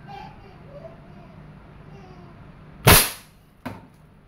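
A Crosman 2100 Classic variable-pump air rifle, pumped twelve times, fires at a tomato with one sharp, loud crack, followed shortly by a fainter impact snap.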